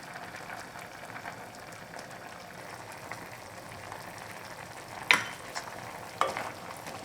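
Braised black beans with rice syrup bubble and sizzle softly in a pan over medium-high heat, a faint continuous simmer broken by a couple of brief sharp utensil clicks as they are stirred.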